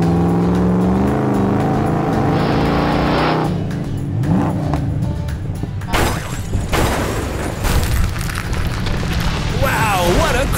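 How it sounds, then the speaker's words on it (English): An animated blue truck revs loudly and accelerates, then hits hard with booming crash noise and scattered clattering and whooshing effects, under a lively cartoon soundtrack with voices. "Wow, what a crash!"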